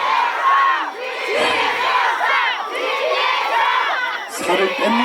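A large crowd at an outdoor trot music concert in Goseong roars and cheers, with overlapping shouts and whoops rising and falling in waves, loud and continuous, fading briefly before surging again.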